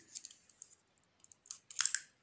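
Scissors snip through craft material while a water monster toy is being made, a few sharp close clicks spaced irregularly, ending in a denser cluster of cuts.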